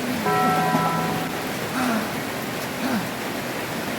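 Rain falls in a steady, even hiss that fills the whole stretch, while people call out briefly in short bursts over it.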